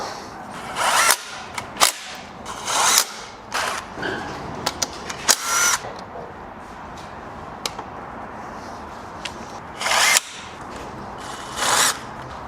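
A power screwdriver whirs in short bursts while fastening bolts to assemble a KOVI Lite 300 motorcycle, several separate runs with pauses between, plus occasional clicks and clanks of metal parts nearby.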